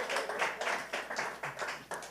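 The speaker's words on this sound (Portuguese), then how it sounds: "Aí dê um aplauso, performance fantástica do Esaú." Church congregation applauding after a performance, a soft, fairly distant patter of clapping hands in uneven bursts with no voices over it.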